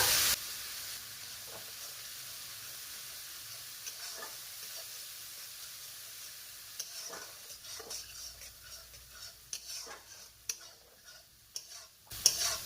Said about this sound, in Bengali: মশলাকে কিছুক্ষণ কষে নেব।